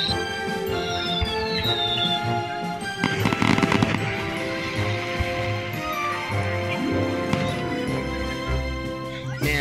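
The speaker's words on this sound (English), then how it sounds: "I guess I have to watch the fireworks by myself now." Fourth of July fireworks bursting in a dense, crackling cluster with sharp pops and booms over a continuous background of music, moderately loud and sustained, peaking in a rapid flurry partway through.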